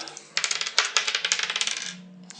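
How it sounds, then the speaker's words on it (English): Dice rattle and clatter across a tabletop for a role-playing game, a dense burst of sharp clicks for about a second and a half, then settling to quiet with one last small click. "Roll me some dice."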